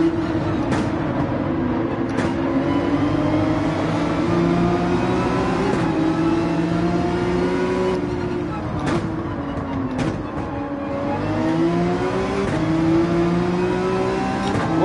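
Red Bull race car engine in Gran Turismo 7 holding a steady high-pitched whine with rising and falling tones through gear changes, loud and continuous, with a voice talking faintly underneath.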